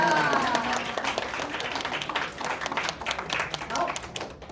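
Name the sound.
audience applause for performers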